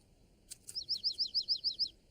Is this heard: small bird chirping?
yes